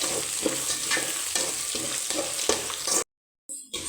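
Garlic fries and is stirred in a pan for kara pori, crisp sizzling broken by rhythmic scraping strokes of a spoon, close and loud, before a sudden brief silence and a short return of sizzle.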